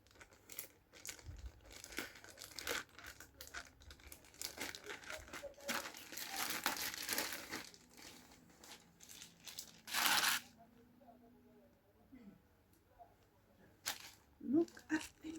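T-shirts are pulled out of plastic packaging in an online-order unboxing, with repeated close crinkling and tearing of the plastic, one louder rip, and quieter rustles in between.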